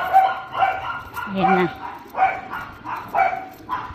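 Chow chow dog giving a string of short, loud barks and yips at close range, about half a dozen in an uneven rhythm, while a person speaks between them.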